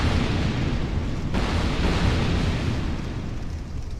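A trap explosion destroys a chest in the Dark Souls 2 video game, a loud, dense roaring blast that fills the whole stretch and eases off only slightly toward the end.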